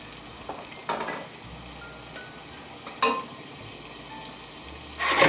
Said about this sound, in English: Get my onions. We'll let that brown just a little bit.